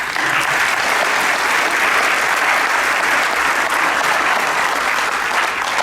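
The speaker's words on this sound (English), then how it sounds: "Let's give them a round of applause." A large audience breaks into loud, sustained applause, a dense and steady roar of clapping that holds evenly for several seconds with no speech over it.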